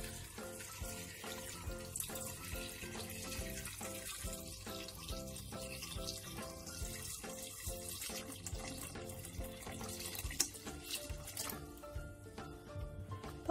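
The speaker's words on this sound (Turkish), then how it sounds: "pancarlarımın üzerine geçecek kadar, şöyle bir sallayayım düzlensin, geçecek kadar su ilave ediyorum" Water pours steadily from a tap over sliced red beets in a jar for a quick Turkish pickle. The stream splashes and trickles continuously at close range with no talk.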